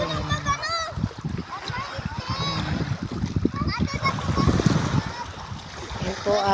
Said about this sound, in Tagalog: Yan po ang dagat.